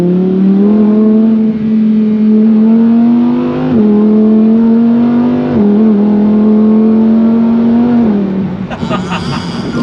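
A Lamborghini in Corsa mode accelerates hard with the engine droning loud and near, its pitch climbing steadily then dropping sharply at several rapid gear shifts, before fading into a rougher burst at the end.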